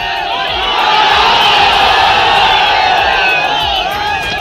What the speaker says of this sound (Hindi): सिवान में जिस समय भीड़ ने तेजस्वी के लिए शोर किया